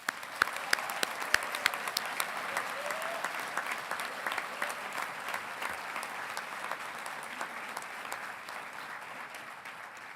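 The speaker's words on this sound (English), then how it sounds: "Please join me in a round of applause in congratulating these students on this happy occasion" A large audience applauds engineering graduates at a college commencement ceremony, sustained even clapping heard from a distance across a big hall, with a few sharper nearby claps early on.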